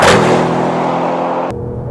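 An Audi RS6 accelerates hard on a de-restricted road, its engine a loud, rising roar heard from inside the car that cuts off abruptly near the end.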